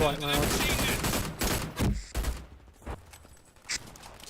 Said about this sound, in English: Let's turn the gunfire down a little bit.